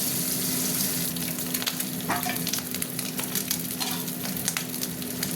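Eggs frying in hot oil in a pan produce a steady, close crackling sizzle with scattered pops and spatters, with a low hum underneath and no voices.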